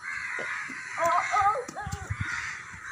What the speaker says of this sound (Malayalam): കുറേ കാക്കകൾ ഇങ്ങനെ പറക്കുവാണ്.